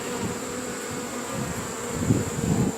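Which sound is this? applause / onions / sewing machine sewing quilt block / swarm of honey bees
swarm of honey bees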